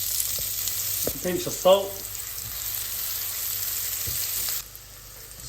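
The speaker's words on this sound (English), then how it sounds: "In goes the oil. We're going to add 1 teaspoon of garlic. In goes the onion." Onion and garlic frying in oil for egg fried rice make a steady, fine sizzle. A voice speaks briefly early on, and the hiss drops away near the end.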